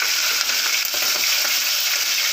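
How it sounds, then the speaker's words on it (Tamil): Onion and green chilli fry in hot oil for poori masala, giving a steady, dense sizzle that stays loud and even throughout, with faint stirring ticks and no talking. "வெங்காயம் சேர்த்துக்கணும் அதுலேயும் வெங்காயம் சேர்த்து நல்லா வதங்கட்டும்"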